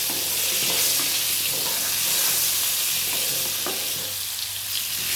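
Potatoes seasoned with salt and turmeric powder are stirred in a hot pan, keeping up a loud, continuous sizzling hiss with soft scraping of the stirring.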